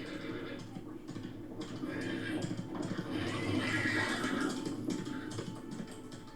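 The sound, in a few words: horse neighing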